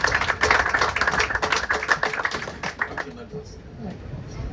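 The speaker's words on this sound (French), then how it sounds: "Je voudrais qu'on l'applaudisse" Audience applause at an evening handover-of-office gathering in a restaurant, a burst of dense clapping that thins out toward the end with some chatter underneath.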